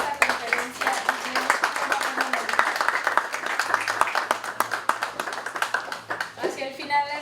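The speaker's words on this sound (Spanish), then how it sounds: "Les pido por favor un aplauso para dar la bienvenida a Eduardo y comenzar con esta conferencia" Audience at a university deep learning lecture applauding to welcome the speaker, a dense sustained clapping from many hands that fades near the end, with some voices mixed in.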